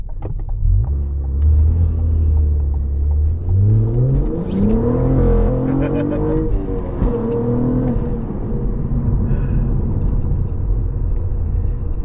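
A Cadillac CT4-V Blackwing driven slowly: a loud, steady engine rumble from inside the cabin, with revs climbing and settling a few times.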